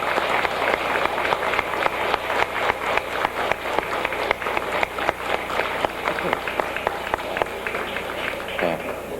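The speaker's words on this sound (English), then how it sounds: "one final warm, enthusiastic round of applause for all of those beautiful performers and entertainers" Audience at a tourism industry awards dinner applauding performers and entertainers: sustained, dense crowd clapping, loud and steady throughout, with scattered voices beneath it.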